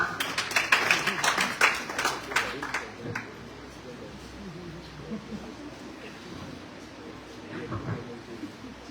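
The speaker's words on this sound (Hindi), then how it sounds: "जोरदार तालियों के बीच स्वागत करें उनका।" Scattered clapping comes from an audience at a poetry recitation competition for the first few seconds, then dies away, leaving faint room murmur and low voices.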